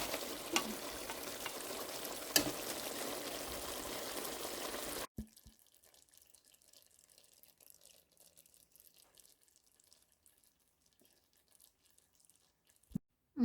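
Chicken salan fries in oil with a dense, steady sizzle for about five seconds, then cuts to near silence with only faint small noises.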